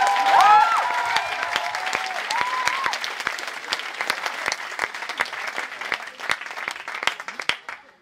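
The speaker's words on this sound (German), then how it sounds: "jetzt einen tosenden Applaus für Inès und Morgan" A crowd claps for two dancers at a cultural show, the applause loud at first and then thinning into scattered, distinct hand claps, with a whistle-like tone early on.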